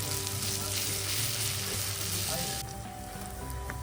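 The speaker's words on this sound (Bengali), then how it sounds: "রসুন বাটাটা দেবার পর ভালো করে একটু রসুনটাকে ভেজে নিন" Garlic paste and onions sizzle steadily in hot oil in a pan, a dense, even frying hiss that softens slightly near the end, with no voices.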